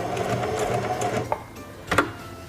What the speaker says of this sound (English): Press and hold the reverse lever and sew backwards a few stitches.